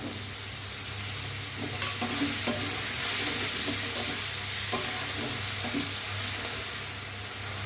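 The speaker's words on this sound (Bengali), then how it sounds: "পেঁয়াজটা ভাজা হচ্ছে টমেটোটা দেবো" Onions fry in oil in a pan with a steady, close sizzle, broken by repeated scraping stirs at irregular intervals throughout.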